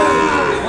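An Ongole bull calf moos in a single loud, close, drawn-out call, filling the short moment on its own with no talk over it.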